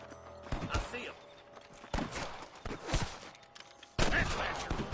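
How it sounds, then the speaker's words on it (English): Gunfire in the Western video game Red Dead Redemption: several sharp, loud shots and short volleys spaced across the moment, with mechanical clatter and game chatter in between. "I can hear more gunshots."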